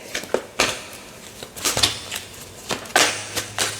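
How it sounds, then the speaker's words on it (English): A tarot card deck being shuffled by hand, a series of quick riffling and crisp slapping bursts, close and fairly loud, coming in irregular clusters. "And then we'll shuffle."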